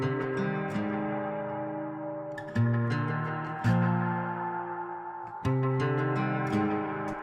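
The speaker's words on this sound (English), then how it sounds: "we blend our audio into this new bus track and we get the nice delay" A sung melody drenched in an ethereal delay on a mix bus. Sustained tones stack up and smear together, with fresh phrases entering about every second and a half while echoes trail behind them.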